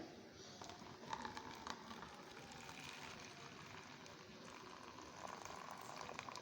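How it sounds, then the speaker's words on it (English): Hot water pours steadily into a jar with a continuous hissing, gurgling rush for several seconds, close up and without talk. "Then I'm going to be adding my hot water to this here."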